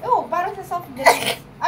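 A sharp sneeze bursts out right after a few quick spoken words, close and loud.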